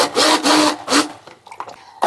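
Red peppers being blended with wine for lomo en orza, a few loud bursts of a blender or hand mixer running close by, with short pauses between pulses.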